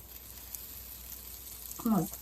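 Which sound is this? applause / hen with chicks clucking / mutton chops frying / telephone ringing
mutton chops frying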